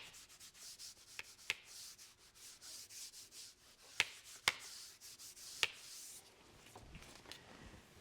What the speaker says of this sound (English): I ended up using some 400 grit sandpaper and doing just a little bit of sanding on the edges